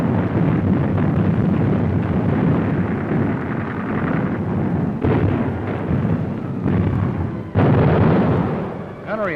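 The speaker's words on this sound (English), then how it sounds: "Ships all up and down the line joined in the barrage." Naval guns fire a barrage from ships along the line at a shore on Guadalcanal, a loud, continuous roar of overlapping blasts and rumbling booms with wind buffeting the microphone. Several sharper bursts stand out, and a narrator speaks over it.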